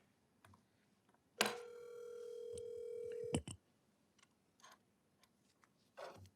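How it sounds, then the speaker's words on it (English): A telephone tone in a city council meeting room as a member is dialed in, a steady electronic tone lasting about two seconds followed by faint clicks and small room noises, fairly quiet, with no speech. "But I am going to dial her in."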